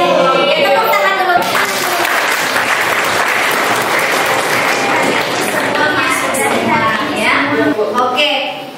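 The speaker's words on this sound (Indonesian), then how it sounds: "tepuk tangan dulu" A classroom of students applauds at the start of a lesson, loud close clapping that swells and holds for several seconds, with voices mixed in near the start and end.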